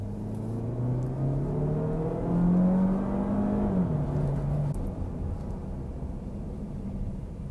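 A Citroën C5 Aircross SUV in sport mode accelerates on a Paris road test, its engine note rising steadily in pitch then easing off, heard continuously from inside the cabin with no talking.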